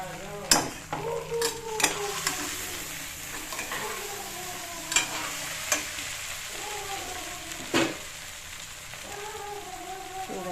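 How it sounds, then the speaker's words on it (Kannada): Green chillies and onion sizzle in hot oil while being stirred for a tempering for soaked flattened rice, a steady close frying hiss broken by sharp clinks of the spoon against the pan. "ಹಸಿರು ಮೆಣಸಿನ್ಕಾಯಿ ಈರುಳ್ಳಿ ಎಲ್ಲ ಹಾಕಿ ಒಗ್ಗರಣೆ ಹಾಕ್ತೀವಿ"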